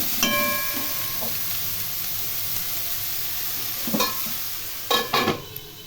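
Vegetables fry in a pan for a potato and ridge gourd posto curry, a soft, steady sizzle with a few sharp utensil clinks and scraping stirs, close and alone without speech.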